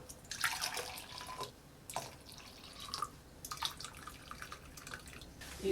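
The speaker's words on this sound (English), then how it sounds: "Let's just wait for the drip to finish and let's measure how much coffee we got." Coffee dripping from a distillation pot into a container, faint irregular droplet plinks and small splashes over a quiet hiss, with occasional louder drops scattered across the stretch.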